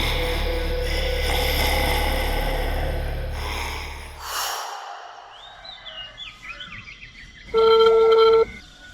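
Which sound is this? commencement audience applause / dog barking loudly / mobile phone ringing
mobile phone ringing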